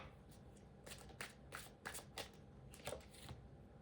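Tarot cards being shuffled by hand, a soft run of papery riffles and slaps in uneven bursts, close and fairly quiet with no talking.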